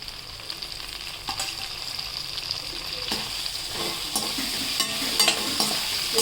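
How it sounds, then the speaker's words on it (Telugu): Ginger garlic paste and tomatoes fry in a pan for gongura pulao, making a loud, even sizzle with intermittent spatula scrapes and clicks throughout. "అల్లం వెల్లుల్లి పేస్ట్ కూడా వేసుకొని మంచిగా వేయించుకోవాలి. తర్వాత మనం టొమాటోస్ వేసుకోవాలి ఇందులోనే."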